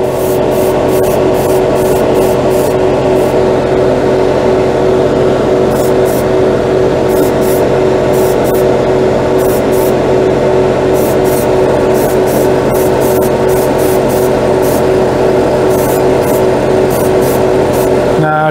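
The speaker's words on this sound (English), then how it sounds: "What I was reaching for was Vallejo flat dark, flat black spray." A spray can of Vallejo flat black primer hisses in a steady, loud, continuous burst, with short sharp ticks and bursts above the spray throughout.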